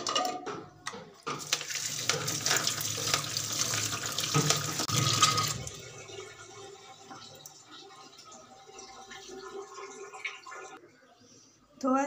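Tap water runs hard onto cut mutton liver in a sink for about five seconds with splashing, then eases to softer trickles and handling sounds, ending in a short burst of flow.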